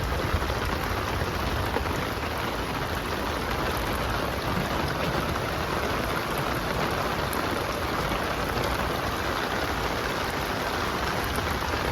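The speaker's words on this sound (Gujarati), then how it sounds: "વરસાદ હજુ ચાલુ જ છે." Heavy rain pouring down in a village with buffaloes out in it, a dense unbroken roar of downpour that stays loud and even throughout, with no voices.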